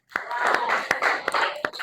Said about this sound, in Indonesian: tepuk tangan untuk Vino